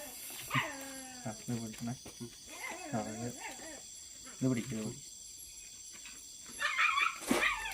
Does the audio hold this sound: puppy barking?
yes